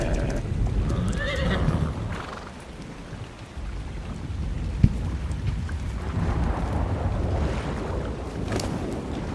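Horses neighing and whinnying with hoof clip-clop in the video game ARK Survival Ascended, set against a steady rain and thunderstorm ambience, with a sharp click midway and no talking.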